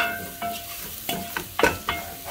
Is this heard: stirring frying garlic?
yes